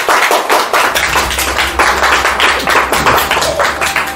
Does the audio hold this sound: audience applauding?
yes